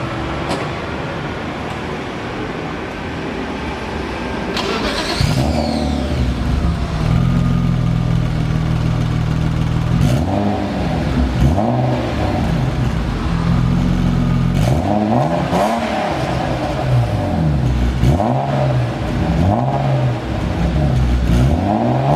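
A BMW 325i with its stock exhaust starts up after a few seconds of quiet, then idles with repeated loud revs rising and falling, close by and with no one talking.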